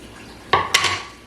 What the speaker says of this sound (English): stir it around, mix it all up.